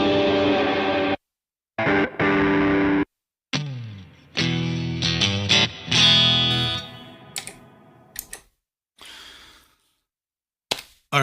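An electric guitar plays through a Helix Stadium XL effects unit in short bursts of chords and notes separated by abrupt silences. The tones are rich with effects and loud and close, with no talking.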